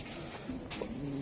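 Soft, low cooing from a calm racing pigeon sitting close by, a short murmuring call repeated in a quiet indoor setting without any speech.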